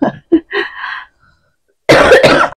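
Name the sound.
cough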